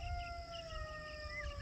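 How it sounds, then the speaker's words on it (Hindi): Jackals howling at night near a free-range chicken farm: a long, sustained wavering howl with higher overtones drifting in the distance over steady low background hum, no talking. "ये भी देखें ये गीदड़ बोल रहे हैं"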